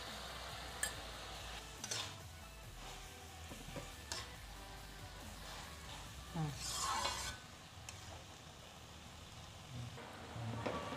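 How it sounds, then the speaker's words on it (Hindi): Spices with turmeric powder roast in a pan for an ash gourd sabzi, a soft, low sizzle under occasional spoon scrapes and light clinks against the pan, fairly quiet and close. "इसे थोड़ा चलाते हुए इसे भूनेंगे।"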